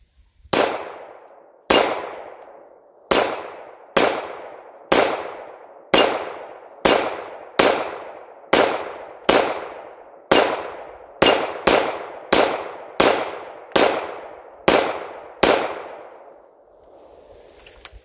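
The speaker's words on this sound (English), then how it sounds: "let's go ahead and switch magazines, and let's shoot some more rounds through this thing" A Tisas PX-9 pistol from SDS Imports fires about fifteen sharp, loud shots at an even, unhurried pace, each with a brief ringing decay.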